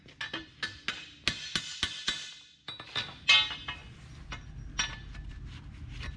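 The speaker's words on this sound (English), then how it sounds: "So we're gonna hammer out on the horn here." Spring steel is hammered over an anvil horn while rolling the eye of a truck leaf spring, ringing metallic blows landing in a steady rhythm of about a dozen strikes, then quieter, softer taps, with no talk.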